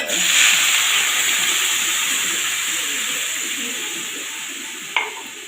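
Water is poured into a hot pan while tamarind cooks, raising a loud, steady sizzle and hiss that slowly fades, with a single sharp clink near the end.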